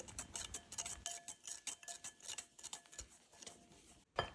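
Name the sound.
whisking egg yolks with vanilla sugar in a bowl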